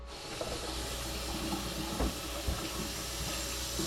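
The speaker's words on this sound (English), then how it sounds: "Little bit of water in there." Water splashes into a cooking pot for baked spaghetti, a steady hissing rush with faint clinks and a couple of brief knocks, no voices.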